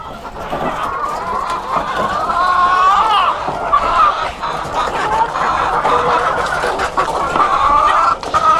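Chickens clucking and murmuring continuously at close range, a busy overlapping chorus with occasional sharper calls.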